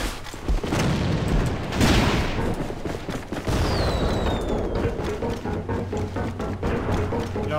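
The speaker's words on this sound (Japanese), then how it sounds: "手榴弾を使うぞ。" In the online shooter AVA, a grenade blast booms out amid rattling bursts of gunfire, with several heavy impacts and rapid shots layered over continuous battlefield noise and no talking.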